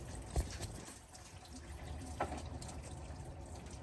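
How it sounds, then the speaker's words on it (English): Engine coolant from a 2013 LML Silverado Duramax pouring out at the thermostat housing, a faint continuous liquid splatter with a couple of soft drips. "Once we loosen it, there goes all the coolant."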